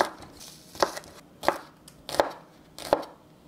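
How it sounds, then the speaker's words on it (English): A knife roughly chopping shallot on a cutting board for Vietnamese lemongrass grilled chicken, with four distinct, evenly spaced, soft thuds at close range and nothing else beneath them. "I'm going to roughly chop up the shallot."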